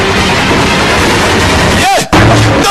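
Gunfire from a dubbed Indian action film, loud continuous shots and bursts filling the whole clip, with a brief swooping effect and a sharp cut near the end.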